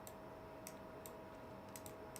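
Keys on a computer keyboard are struck in a few sparse, faint clicks, irregularly spaced over a low room hum.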